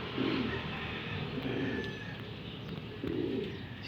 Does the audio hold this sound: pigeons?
yes